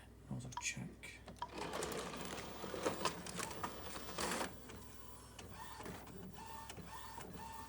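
An Epson WorkForce inkjet printer runs a printhead nozzle check, its carriage whirring and motors buzzing in shifting bursts with clicks and mechanical patter, heard up close and fading to a quieter hum near the end.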